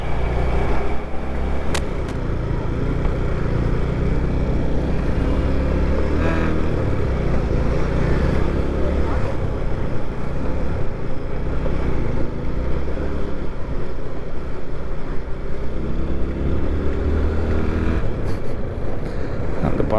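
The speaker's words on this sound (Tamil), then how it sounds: "பயங்கர டிராஃபிக்கு." Heavy road traffic in Bangalore, heard from a moving motorbike: a dense, continuous low engine rumble and road roar with passing vehicles, loud and steady for the whole stretch, with no talking.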